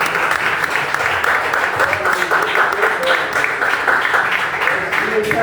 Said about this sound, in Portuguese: e as palmas glorificam o Senhor.